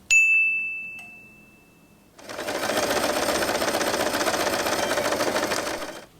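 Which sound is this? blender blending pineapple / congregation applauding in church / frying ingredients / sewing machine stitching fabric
sewing machine stitching fabric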